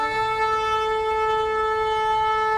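A shofar sounds the tekiah gedolah, one long unbroken note held steady and loud for the whole stretch with no break, its bright harmonic tone sounding alone with no voices.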